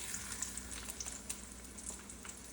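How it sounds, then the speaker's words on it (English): Thin chicken cutlets sizzle in hot oil in a frying pan, making a soft, steady crackle with small scattered pops, faint and close with no talk. "the oil is already hot, so you can hear that sizzle, so you know it's ready to fry"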